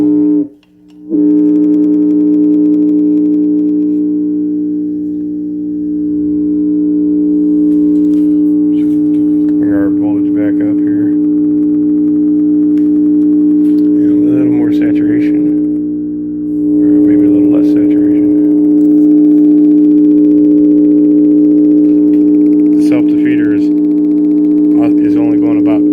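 An Oudin coil driven by a MagAmp gives a loud, steady oscillating hum with a strong fundamental tone that dips and wavers slightly, joined by intermittent crackling bursts, running continuously throughout.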